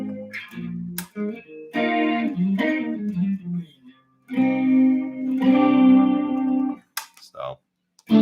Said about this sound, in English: The chorus works pretty good on this guitar.